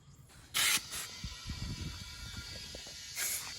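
A patched back tire being pumped with air, short sharp bursts of hissing air, two close together near the start and another toward the end, over quieter background rustling.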